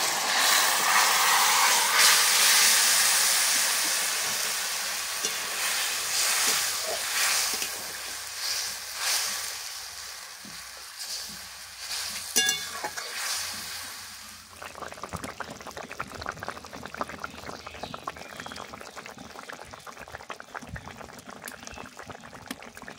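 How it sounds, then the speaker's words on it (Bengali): Tilapia fish broth with mango is poured into a pan of well-fried spice paste, a loud rushing sizzle for the first stretch that then settles into softer, crackling bubbling as it boils. "এবার মাছের ঝোলটা ঢেলে দেবো।"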